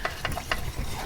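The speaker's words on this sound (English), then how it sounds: "it's sizzling a little" Soft crackling sizzle of food frying in a pan on an electric lunchbox, with a few light scraping knocks of a utensil over the steady hiss.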